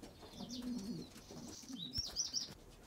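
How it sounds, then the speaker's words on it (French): Racing pigeons cooing nearby in soft, low, throaty rolls, with a few higher chirps mixed in over a faint background hum and no speech. "Ça, c'est des pigeons de course."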